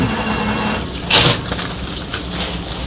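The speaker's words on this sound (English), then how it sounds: "uses a clean, dry paper towel to turn off the faucet" Water runs steadily from a sink faucet during hand washing, a continuous broadband rush with a brief louder splash partway through, heard alone and close.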